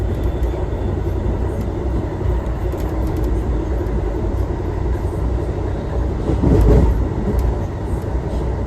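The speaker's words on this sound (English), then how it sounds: "So after the passenger cars have passed us, we see a seemingly never-ending stream of auto rack cars." Amtrak Auto Train auto rack cars roll past close by in a continuous, loud rumble and rattle of wheels on rail, swelling briefly near the end, with no voices.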